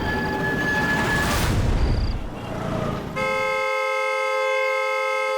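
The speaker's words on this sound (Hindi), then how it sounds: "अरे कौन है ये नॉन स्टॉप हॉर्न बजा रहा है?" A car horn blares in one long, unbroken tone, loud and close, after a stretch of rumbling traffic noise.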